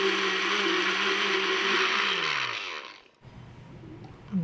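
A blender whirs loudly and steadily as it mixes a thick chocolate cake-mix milkshake with milk, the motor pitch sliding down before it cuts off abruptly around three seconds, leaving a few quiet knocks.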